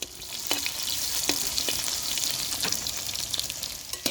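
Sliced garlic frying in hot peanut oil gives a steady, loud, close sizzle with scattered crackles and occasional stirring clinks, no talk.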